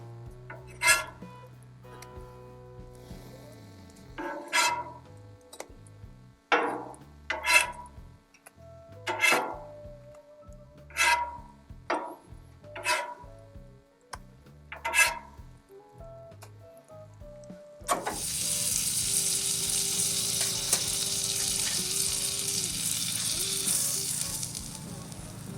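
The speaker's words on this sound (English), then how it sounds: "we're gonna go ahead and flip over the first couple." Corn cakes being flipped on a Blackstone griddle: a stretch of rhythmic music comes first, then a loud, steady, close sizzle of batter on the hot flat-top fills the last several seconds.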